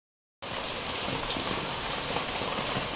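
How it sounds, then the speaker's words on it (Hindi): Heavy monsoon rain pours steadily outdoors on a rainy-season morning, a dense continuous hiss that starts abruptly and holds at an even, fairly loud level with no talk over it. "मौसम बाहर बहुत बारिश हो रही है"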